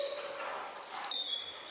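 An anxious, vocal dog lets out faint, thin high-pitched whines and whimpers in a short burst, quiet and somewhat distant.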